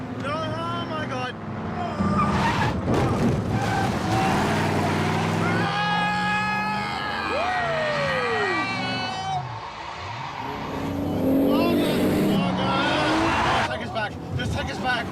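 A car driven recklessly on a road, engine revving hard with a sweeping tire squeal midway, heard from inside the vehicle under people shouting and talking.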